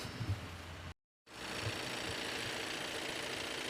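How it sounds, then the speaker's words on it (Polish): An Audi A4 B9 2.0 TDI 150 hp diesel idles with a steady close clatter under the bonnet, broken by a brief total dropout just before the one-second mark, then resuming unchanged. "Zajrzymy jeszcze sobie pod maskę, żebyście zobaczyli jak ten silnik właśnie klekoce, jak sobie tutaj pracuje."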